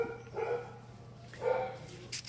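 A dog barks at someone passing in the street: two or three muffled bursts of barking heard at a distance, quiet, with faint background and no clear talk.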